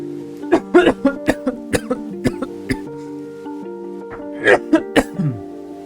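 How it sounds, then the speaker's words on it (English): A person coughs repeatedly in short sharp bursts, a quick run of coughs followed by a pause and another cluster, close to the microphone over a faint steady tone. "That's just me coughing."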